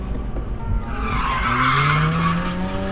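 Mazda RX8 drifting through a full turn, tires skidding and squealing in a sustained screech over a steady engine drone, loud and close throughout.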